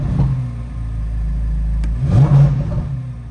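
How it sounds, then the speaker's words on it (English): A 2024 Corvette Z06 coupe's 5.5-litre flat-plane-crank V8 idles close by with a deep steady rumble, then is blipped in a short rev that rises and falls back, held under a rev limiter on a nearly new car. "let's go ahead and give it a couple revs."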